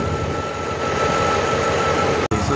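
A stroker car engine idles during fuel pressure regulator tuning, a steady, dense rumble that holds loud and even, broken by a single sharp dropout near the end.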